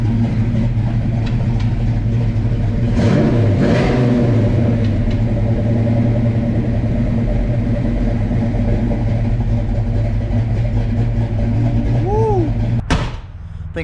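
A car engine idles with a deep rumbling exhaust and rises through a couple of swelling revs, loud and close, before cutting off near the end.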